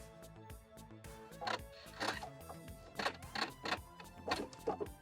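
A sewing machine stitches fabric for a bucket hat in short, quiet mechanical bursts with rhythmic clattering pauses between runs, close by and alone.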